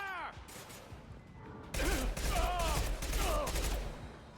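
Video game gunfire in Mass Effect 2, a dense battle fusillade of rapid shots over whooshing sci-fi effects and a low rumble, with voices calling out amid the combat.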